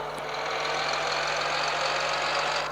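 A Fiat Ducato van engine in Cargo Transport Simulator holds a steady, even drone as it accelerates hard, with a faint click near the start.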